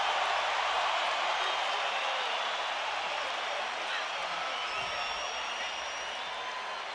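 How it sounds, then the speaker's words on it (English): A boxing arena crowd in Las Vegas roars on its feet at the Canelo Alvarez vs Gennady Golovkin fight, a dense, sustained cheer that fades slightly toward the end, with no one speaking. "Crowd on their feet."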